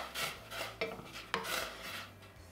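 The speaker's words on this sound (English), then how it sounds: "Give it a little stir here." A spoon scrapes and stirs oatmeal inside a pot, with a few sharp metallic clinks against the side over a faint low hum.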